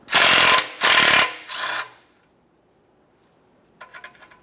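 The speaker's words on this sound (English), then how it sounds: "This is held in place with 2 12 millimeter headed mounting nuts. We'll remove those and the bracket." Ratchet wrench loosening the 12 mm mounting nuts on an exhaust support bracket of a 1994-1997 Honda Accord 2.2L I4, heard as three loud close bursts of rapid clicking, a pause, then a fainter short run of clicks.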